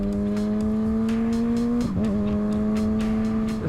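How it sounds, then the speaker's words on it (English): A 2023 Kawasaki Ninja ZX6R 636 fitted with an M4 slip-on exhaust, held in third gear, gives a loud, steady engine drone. The pitch dips briefly around a shift and then holds, heard close and with no voice. "It's a pretty loud bike, and I'm in third gear talking at normal volume."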